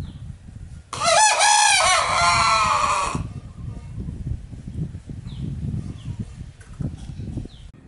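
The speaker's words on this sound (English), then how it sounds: "that crow might sound very loud" A rooster wearing a crow-reducing collar crows once, loud and close, a long strained cry lasting a couple of seconds, followed by quieter background noise and faint voices.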